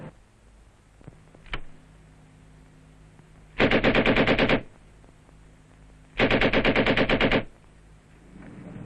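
Weapons on armoured personnel carriers of B Squadron, 3rd Cavalry Regiment, test-fired in Vietnam: two loud sustained machine-gun bursts of about a second each, separated by a quieter pause with a faint click.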